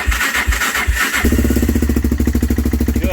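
A quad ATV engine, run with gas for the first time, sputters through cranking, then catches and settles into a loud, rapid, steady putter close by.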